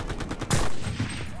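Gunfire in the video game Enlisted, with a loud sharp shot cracking out midway after a burst of quicker rapid shots, a fainter report following close behind.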